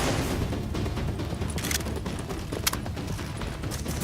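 Grenades go off in the shooter video game The Division amid a dense, continuous roar of gunfire and battle noise, with one or two sharper bursts cutting through the steady rumble.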